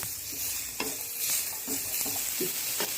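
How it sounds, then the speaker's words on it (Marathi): A spice mix for Maharashtrian kat vada curry is dry-roasted in a pan, with repeated scraping stir strokes and a soft sizzle running steadily through the clip. No one speaks. "हे सगळं मिक्स छान भाजून घ्यायचं आहे"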